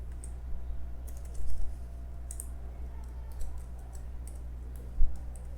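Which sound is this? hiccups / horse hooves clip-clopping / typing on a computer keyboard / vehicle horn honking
typing on a computer keyboard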